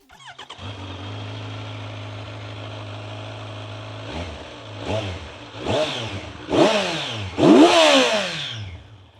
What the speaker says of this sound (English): This remains the smoothest inline-4 engine that you will get at this price point.